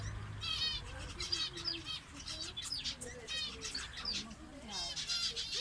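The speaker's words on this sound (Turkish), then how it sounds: "Kafesin içindeki kuşlara bakın." Caged birds in a greenhouse chirp and trill in quick, overlapping bursts of song, fairly close, with a flutter of wings now and then.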